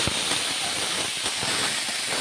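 Drained Gobindobhog rice tipped into hot oil spiced with cardamom and cinnamon, giving a steady broadband sizzle and hiss with a few soft clinks, close and continuous.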